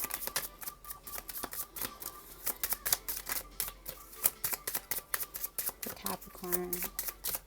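Tarot cards are shuffled and drawn in a quick, close run of crisp papery flicks and snaps that bunch into rapid bursts, with a voice briefly speaking.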